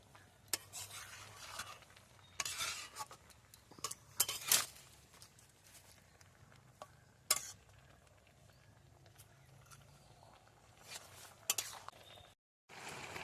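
Stirring grated carrots simmering in reduced milk for Bengali-style gajar halwa, with soft scraping and occasional sharp clinks of a spoon against the pot, faint and irregular, heard alone.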